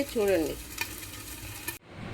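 Tapala chakkalu, rice flour crackers, sizzle on a stove with soft frying crackle and a few scraping stirs, close and quiet, cutting off abruptly near the end.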